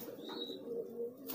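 Adult domestic pigeon cooing in courtship, a soft, steady throaty warble held close and clear throughout, with a brief higher whistle early on and no voices.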